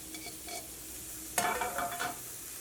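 Carrot, onion and capsicum dropped into hot oil, giving a sudden burst of sizzling and frying crackle midway that tapers off, with light stirring clatter before it; close and moderate in level, no voices.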